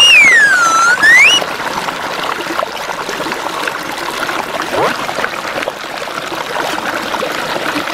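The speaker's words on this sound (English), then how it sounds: "Let's put the penguin in the water." A toy penguin dropped into water, with continuous trickling and splashing after a brief electronic whistle-like chirp at the start.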